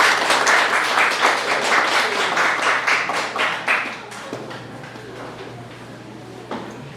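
An audience clapping to welcome a lecturer at a humanities talk, a dense burst of applause that fades out after a few seconds, leaving quiet room tone with a faint tap near the end.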